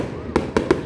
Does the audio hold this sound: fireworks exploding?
yes